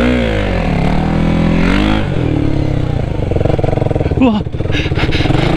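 A motorcycle at a gymkhana practice roars as its throttle opens accidentally, a loud close engine revving up and down, with a startled voice exclaiming near the end.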